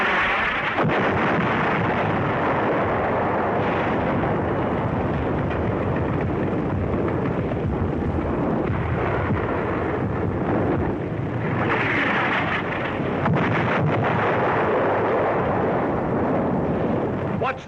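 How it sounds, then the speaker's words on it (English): Heavy artillery fire in the North African desert during World War II, US Army guns firing as they find the range, heard as a loud, sustained rumbling roar with booming surges throughout, no voices. "Artillery begins to find the range."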